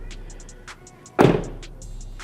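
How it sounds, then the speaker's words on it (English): A Toyota Camry car door shuts with a single solid thud, close and loud, over quiet background ticking and chimes. "The sound of closing the door. So we're gonna start with the Camry."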